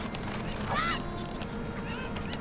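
Cucco chickens in Zelda: Ocarina of Time make short squawking, honking calls, one prominent burst near the start and fainter ones later, over a steady busy game background.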